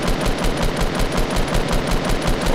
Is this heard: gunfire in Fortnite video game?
yes